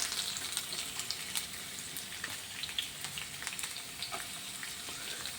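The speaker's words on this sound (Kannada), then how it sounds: "ಈಗ ಬೆಳ್ಳುಳ್ಳಿ ಫ್ರೈ ಮಾಡಿ ಅದರ ಹಿಂದೆಯೇ ಶುಂಠಿನ ಕೂಡ ಹಾಕಬೇಕು." Garlic and then ginger fry in a spoonful or two of oil for a chicken roast, giving a quiet, crackling sizzle with scattered light pops and occasional stirring.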